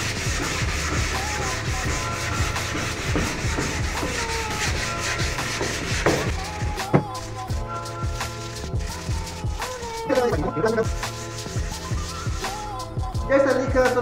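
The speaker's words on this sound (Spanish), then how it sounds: "Cualquier tipo de lija en madera tiene que ser al hilo de la veta." Wood being hand sanded with sandpaper along the grain, a steady scratchy rubbing that runs throughout with a brief pause near the middle, heard close up while preparing wood for a brush-applied sealer.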